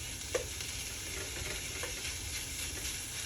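Vegan ground meat substitute sizzles steadily in a hot pan while a utensil scrapes and breaks it up, with a sharp clack near the start and soft stirring scrapes over continuous frying hiss.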